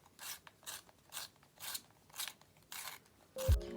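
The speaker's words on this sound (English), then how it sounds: "This needs sharpening, that's really bad." Brown Ochre colored pencil being sharpened: a soft, rhythmic rasping in about six evenly spaced strokes, close and quiet, ending with a brief clunk.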